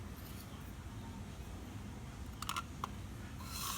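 A Thieves cleaner spray bottle gives two squirts: soft clicks of the trigger followed by a short, breathy hiss of mist in a quiet room.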